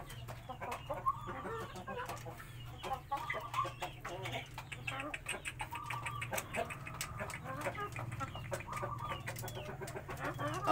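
Japanese Shamo chickens cluck and murmur repeatedly at close range over a low steady hum, with soft scratchy noises in between; fairly quiet overall.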